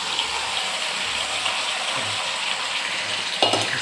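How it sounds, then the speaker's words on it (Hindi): Marinated chicken fries in hot oil for biryani, a dense steady sizzle and crackle with a brief clatter near the end and no voices. "तेल के ऊपर चिकन डालेंगे"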